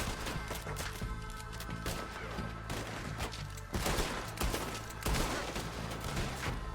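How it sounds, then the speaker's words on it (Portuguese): Gunshots in Red Dead Redemption 2 during a swamp chase, several loud close blasts over continuous game noise and a dense clatter of shots. "Tive que dar 3 tiros no cara."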